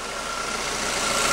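A 2011 Ford EcoSport engine idling with a stuck thermostat valve, a steady close mechanical hum with slight vibration, alone without talk, rising a little in level over a brief moment.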